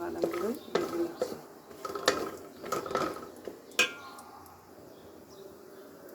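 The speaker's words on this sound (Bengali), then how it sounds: "সেজন্য আমি বাদামগুলোই ভেজে নিচ্ছি।" Cashews and almonds being fried in a pan for milk semai, with a soft background sizzle broken by repeated scraping and clinking of a spatula against the pan.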